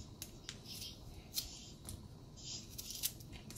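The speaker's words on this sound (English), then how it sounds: "I'm gonna cut my garlic" Garlic being cut with a kitchen knife: quiet, sharp clicks and taps at an irregular pace, close up in an otherwise faint room.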